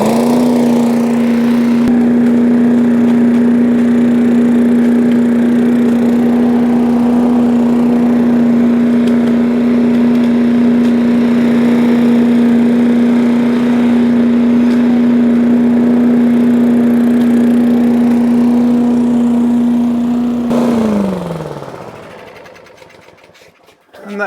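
A petrol lawn mower engine running steadily at a constant loud drone for about twenty seconds, close by, then winding down and stopping near the end.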